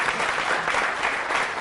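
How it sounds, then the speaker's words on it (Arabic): Audience applause at a comedic Iraqi folk poetry recital, steady dense clapping throughout, loud and close, with no speech over it. "صفقوا له يابا."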